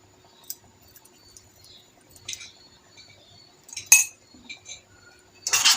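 A spoon clinks and scrapes against a pot of boiling apricot marmalade, sparse light taps and a couple of sharper clatters in an otherwise quiet kitchen.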